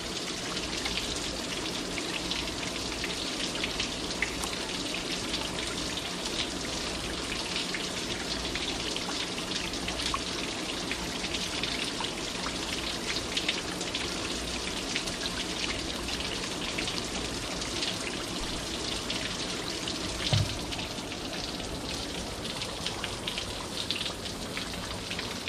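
Water flushes out of a 1998 Jeep Cherokee XJ cooling system in a continuous spattering, trickling pour, steady and fairly close throughout with no talking.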